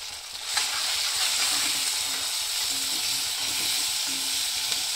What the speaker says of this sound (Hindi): अब इसमें डालूंगी लहसुन अदरक का पेस्ट 1 छोटा चम्मच, और इसको सोटे करके, और 2 मैंने मीडियम टमाटर काटे थे वो डाल दूंगी इसमें